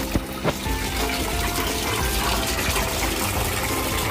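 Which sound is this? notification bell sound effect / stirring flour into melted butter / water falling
water falling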